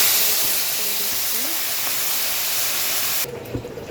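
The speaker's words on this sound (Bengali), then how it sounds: "এখন আমি পাঁচফোড়ন আর জিরা ফোড়ন দিয়ে দিব" Panch phoron and cumin seeds hit hot oil with a loud, steady hiss that holds for about three seconds, then drops suddenly to quieter crackles and light clatter.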